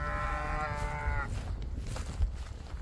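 A cow lets out one drawn-out moo in a field, its harmonic call lasting about a second over steady outdoor background noise with light rustling.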